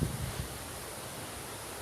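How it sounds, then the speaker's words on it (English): Strong wind blowing outdoors around a gazebo on a blustery March day, a steady broadband rush with low rumbling gusts near the start, heard alone without talk. "It's a strong, windy day."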